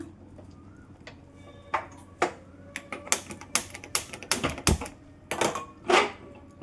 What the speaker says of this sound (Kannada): ಸ್ಟವ್ ಆನ್ ಮಾಡ್ಕೊಳ್ಳೋಣ